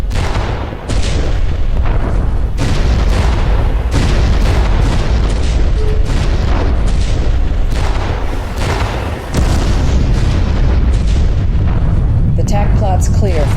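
Secondary explosions tear across multiple decks of a destroyed warship in Freespace 2, a continuous barrage of heavy, rumbling booms and blasts, loud and near, barely pausing for thirteen seconds.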